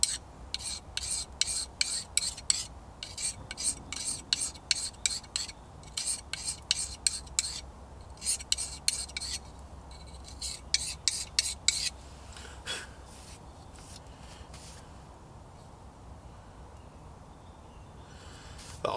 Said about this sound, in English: I'm gonna have to sharpen it up quick